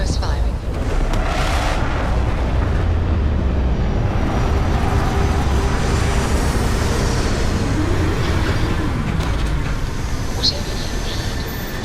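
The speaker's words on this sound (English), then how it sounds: "Landing struts primed. Retros firing." Spaceship retro thrusters firing during a planetary landing in a sci-fi game, a loud continuous roaring rumble with hissing and low vibration sustained throughout, close and unbroken.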